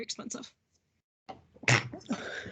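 A single sharp sneeze erupts during a teacher advisory subcommittee meeting, close and loud, after a brief pause following speech, with talk resuming around it.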